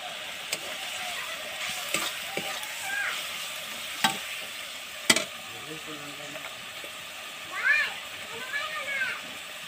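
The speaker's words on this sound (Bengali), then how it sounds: "এবার সবগুলি মশলা ভালো করে কষিয়ে নেব।" Spices being stir-fried with meat in a pan: a soft steady sizzle with occasional sharp clanks of the spoon against the pan.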